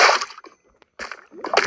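Water splashes in a Minecraft game, with short bursts of sloshing and splatter at the start, again after a brief silence, and at the end.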